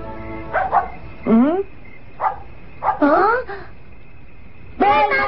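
A cartoon dog barks and yips in short bursts, several separate close, loud yelps spread across a few seconds with quiet gaps between them.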